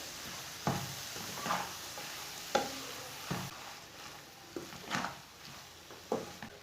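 Cabbage and egg curry gets stirred in a frying pan, several distinct spoon scrapes and clanks landing at irregular intervals over a soft background sizzle.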